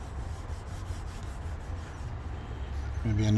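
A small applicator pad rubs wet C4 trim restorer onto the plastic exterior trim of a 2019 Ford Edge, giving a steady, close scrubbing swish that grows louder and heavier at the end.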